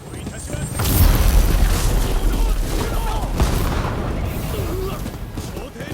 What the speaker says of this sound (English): The beginning of the mission was a run for dear life under the hail of cannon shots.